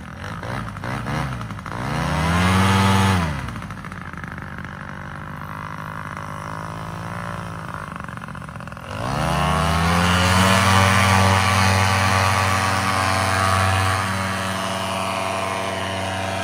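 Paramotor engine for a downwind take-off, a loud buzzing drone that surges in a brief rev, settles to a steady hum, then climbs to a sustained high-power roar held to the end.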